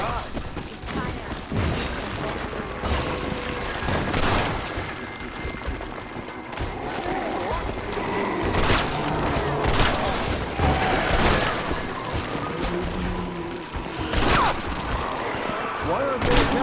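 Gunfire against the undead in Red Dead Redemption: Undead Nightmare, with repeated sharp shots and thuds spread through a busy, loud game mix, while people talk over it throughout.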